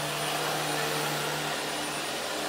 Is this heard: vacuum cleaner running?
yes